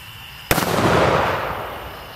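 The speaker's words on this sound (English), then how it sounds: "Brian's service in the United States Army, rifle, would you load and fire one round, please?" A single rifle round fired for United States Army memorial honors: one sharp, loud crack at outdoor range, followed by a long decaying echo and rumble lasting well over a second, with no voices.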